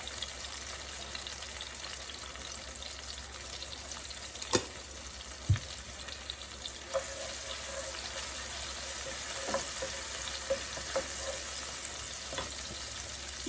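Eggs and panch phoron frying in hot oil, a steady close crackling sizzle that runs throughout, with a few scattered clicks and small knocks, no speech.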